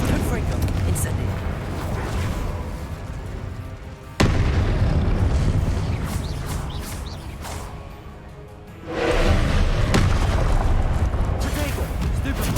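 Confringo and Incendio spell blasts in the video game Hogwarts Legacy: two loud booming bursts several seconds apart, each followed by a rumbling fiery roar, over a dense, noisy game soundscape.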